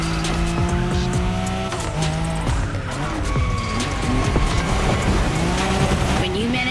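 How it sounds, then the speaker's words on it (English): A bulky car drifts in The Crew Motorfest racing game, its engine droning loudly as the tires squeal in long, wavering screeches, close and continuous throughout. "When you manage to drift this bulky bodywork, it's just magic."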